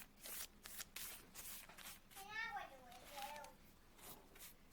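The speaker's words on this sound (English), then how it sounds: "you can hear the children in the background" Children's voices chatter faintly in the background of an indoor room, mixed with close brushing and shuffling noises on a countertop covered with paper.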